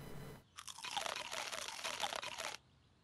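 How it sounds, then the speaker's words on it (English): Loud, dense crunching of chicks being eaten in the Fable Anniversary game, a continuous two-second burst of crisp, crackly chewing that starts abruptly and cuts off cleanly. "but let's eat all my chicks"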